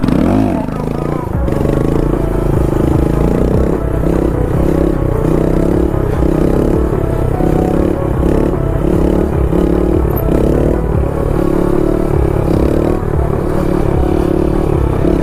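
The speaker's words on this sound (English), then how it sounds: "This is my last wheelie on the Grom." A Honda Grom motorcycle ridden on a wheelie, its small engine droning loud and close throughout, with a rough, clattering roar and wind noise that stay fairly even.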